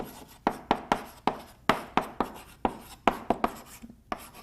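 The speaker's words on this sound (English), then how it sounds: "Let's write it down." Pen strokes on paper or a board as words are written out, a quick run of about a dozen short, crisp scratches in an uneven rhythm, close and clear with no talking.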